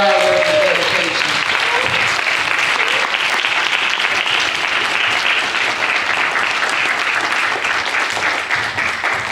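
A graduation crowd at an ombudsman ceremony gives Dr. Leslie a long round of dense, steady applause, loud and sustained throughout, with some faint voices mixed in.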